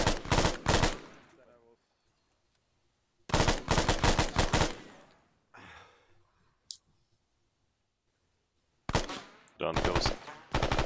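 Loud, close bursts of rapid gunfire during a reconnaissance mission break out in three separate volleys with quiet gaps between them, and someone speaks briefly in between.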